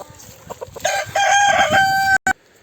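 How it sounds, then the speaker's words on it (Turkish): A Sultan rooster in a farm coop calls its hen with a loud, drawn-out crowing call followed by clucks, close by, then a brief dropout and quieter background. "Tavuğunu çağırdı burada gel dedi bir şeyler var dedi."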